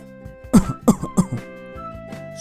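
Three sharp coughs in quick succession, close and fairly loud, followed by a short throat-clearing sound.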